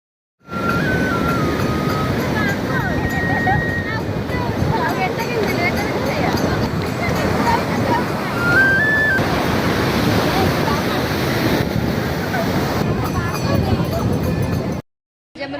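Sea waves break at the beach in Puri in a constant, loud roar mixed with wind buffeting the microphone, with people talking over it throughout.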